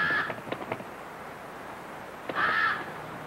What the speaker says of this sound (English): It's a noisy little bird.